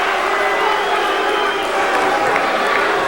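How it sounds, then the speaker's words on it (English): Crowd in a gymnasium at a 1991 regional high school wrestling final, a dense continuous wash of voices and jeers filling the room, steady and loud, with commentators talking over it. "we hear a cascade of boos"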